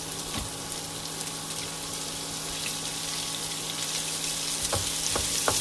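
Onions added to hot oil with cinnamon and cloves, a loud, continuous frying sizzle with a few sharp stirring knocks near the end, close up and without speech.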